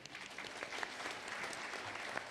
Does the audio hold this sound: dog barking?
no